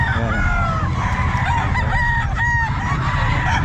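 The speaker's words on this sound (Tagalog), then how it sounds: "Ayan mga sir, ang manok niya." A white-legged sweater gamefowl rooster crows at a pet market in Bocaue, its cock-a-doodle-doo calls rising clearly and close over a steady, noisy market din. Other birds seem to cluck in the background, and no one speaks.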